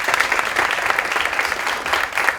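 An audience in a lecture on the care of historic heritage applauds colleagues from the historic heritage office, giving a steady, even patter of many hands clapping at moderate loudness with no speech over it.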